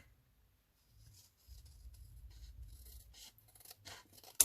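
Scissors snip through paper for Halloween gothic-style journal pages, a quiet, close run of soft crunching cuts after a near-silent start, ending in a brief louder click.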